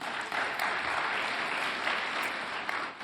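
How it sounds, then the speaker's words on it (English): Applause from an audience at a medical conference on chest radiology, steady continuous clapping filling the whole stretch at moderate volume, with no voices over it. "please don't clap my colleague every time he leaves the podium"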